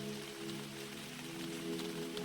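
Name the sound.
rain pattering on a canopy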